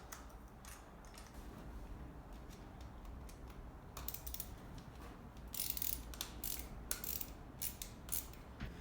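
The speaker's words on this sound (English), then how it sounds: "just turn the open end over and over again" An open-end wrench works a bolt on a Yamaha Virago 1100 engine during a top-end rebuild, faint repeated metallic clicks and ratcheting ticks over low background hum, growing a bit louder toward the end.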